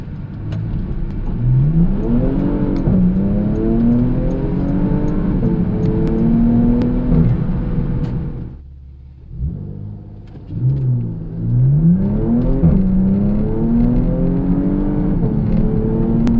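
A 95B1 Porsche Macan Turbo on a COBB Stage 1 off-the-shelf tune accelerating hard, its engine climbing through repeated gear changes. It drops briefly to near silence, then roars up through the gears again, loud and close.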